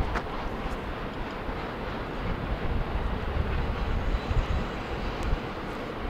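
A heavy freight train rumbles past in the distance on the Tehachapi Loop, a steady low roar with rattling wheels and faint clanks, no voices.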